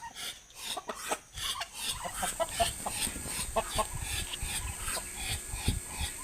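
Roosters clash in a five-cock derby, sharp rasping scuffles and wingbeats mixed with clucking, loud and close, continuing in busy irregular bursts with a noisy crowd-like background.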